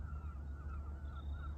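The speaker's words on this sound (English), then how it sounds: "I can hear a lot of geese in the background" Geese honk faintly in the distance over a salt marsh at dawn duck flighting, a few scattered calls above a low steady rumble of wind and ambient noise.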